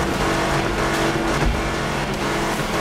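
Car engine in a demolition derby video game, a loud steady motor roar running throughout at full speed, with no talking.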